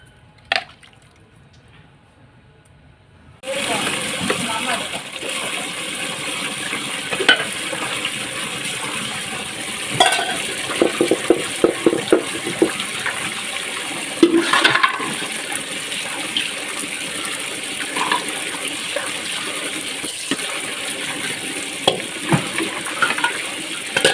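Pots and aluminium vessels being washed with running water: after a near-silent start, a steady gushing hiss of water runs continuously, broken by scattered clinks, scrubbing and splashing, fairly close, with no talking.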